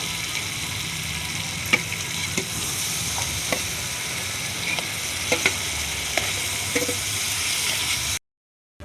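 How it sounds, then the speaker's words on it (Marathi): Cabbage frying with masala in a pan, a steady loud sizzle with occasional light clicks and scrapes of stirring, cutting off abruptly at the end. "आता ही गोबी चांगली कलसून घेऊ"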